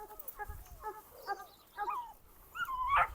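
Several dogs, part of a pack of about twenty outside, whimper and yelp in short high whines with some low grunts, fairly close and moderately loud.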